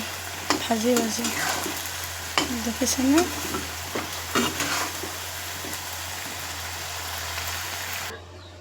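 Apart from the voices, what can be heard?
food frying and being stirred in a pan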